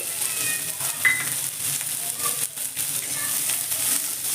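Two medium chopped onions frying in hot oil over a high gas flame, a steady close sizzle with occasional stirring scrapes and no talk.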